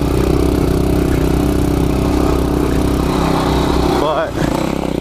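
Trail motorcycle engine running loud and close in a steady rumbling drone, with a brief dip and rise near the end, while a person talks over it.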